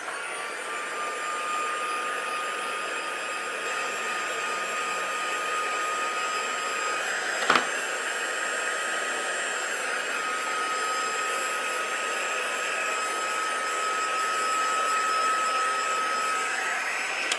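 A heat tool blows steadily to dry a mixed media print, a continuous whining, whooshing drone with a high tonal whistle, close and loud throughout, interrupted only by a brief click partway through, no voices.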